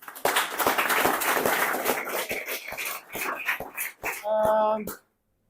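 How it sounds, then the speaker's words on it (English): An audience at a DJ gathering during ADE claps together in a dense burst of applause lasting about four seconds, fairly close and loud, followed by a short tonal electronic chime before it stops. "clap it up."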